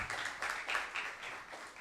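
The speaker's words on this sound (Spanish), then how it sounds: "Un fuerte aplauso para Carlos Pared Vidal" Audience applause for a speaker at a panel, a steady patter of many hands clapping at moderate volume for a couple of seconds.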